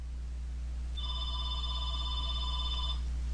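A telephone rings with a steady electronic tone for about two seconds over a constant low hum in a quiet room.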